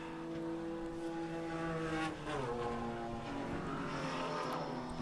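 Race cars, including a Nissan, Dodge Neon ACR and BMW, roar around a road circuit during the 2014 O'Reilly Auto Parts Grand Prix, a steady loud engine drone with shifting pitch as the cars pass.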